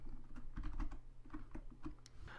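Quick, uneven clatter of keys on a computer keyboard while code is entered, close and fairly quiet, with no talk.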